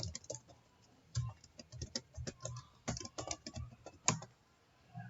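Rapid, uneven keystrokes on a computer keyboard while a password is entered to push files from Eclipse to GitHub, clattering close and clear in irregular bursts with no talking.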